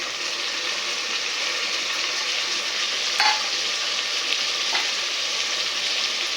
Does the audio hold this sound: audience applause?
no